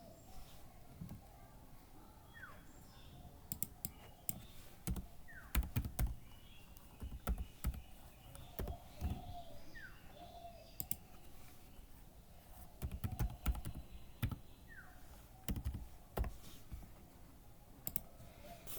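A new password being typed on a computer keyboard, with quiet irregular bursts of key clicks over a low room hum and faint bird calls in the background.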